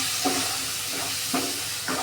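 Masala for matar paneer sizzling in hot oil as a spoon scrapes and stirs it in the pan, with a continuous hiss and three or four distinct scraping strokes at an unhurried pace, close up.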